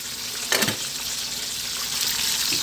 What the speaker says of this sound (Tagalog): Ito na yung ating pritong talong.